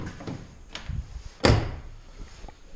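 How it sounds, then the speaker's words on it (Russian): A Lada Priora car door shuts with one solid thunk about midway, after a few softer handling knocks and rustles, close by outdoors after the car has thawed. "То есть реально прям дверь даже закрывается по-другому."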